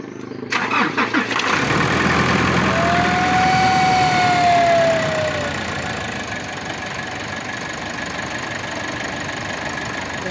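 A car with a faulty alternator cranks and starts, the engine catching with a loud burst and then settling into a steady idle that hums on alone, with a brief whine gliding through the start.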